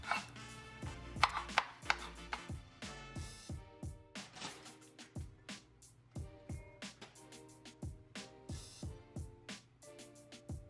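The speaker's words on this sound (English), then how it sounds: "So we're going to core the red pepper, get rid of the chunks, and cut this into small quarters." Steady knife chopping of a red pepper on a cutting board, a long run of crisp, rhythmic thuds close by with no talking.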